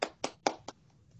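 One person claps four times at close range at the end of an online physics talk on hidden symmetries, sharp evenly spaced claps followed by quiet.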